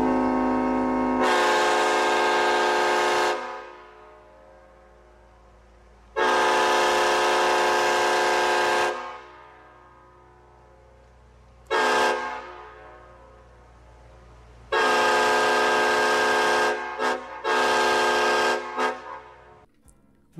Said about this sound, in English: these units came equipped with Leslie S5T air horns